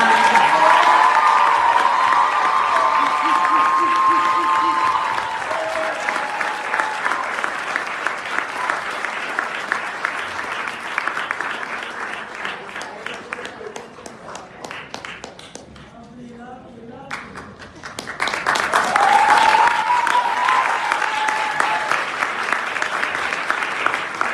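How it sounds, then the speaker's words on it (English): Sustained audience applause and some cheering at a 2023 school graduation ceremony honoring the valedictorian, loud and steady with a brief dip before swelling again, with a voice speaking over it near the start. "Let's give a round of applause to the Academic School of Learning 2023 valedictorian, Mr. Isaiah Yankee."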